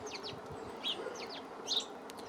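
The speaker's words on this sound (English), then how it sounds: "So here are 3 male house sparrows on the feeders." Three male house sparrows at a winter seed feeder give short, high chirps, a few quick notes scattered over a quiet, hissing background.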